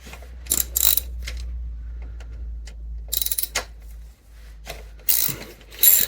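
Bolts on a Honda Goldwing heel-and-toe brake footplate being cracked loose with a ratchet: short bursts of metallic clicking in several separate spells over a steady low hum, close and moderately loud, with no talking.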